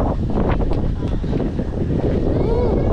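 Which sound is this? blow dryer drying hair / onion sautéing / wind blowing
wind blowing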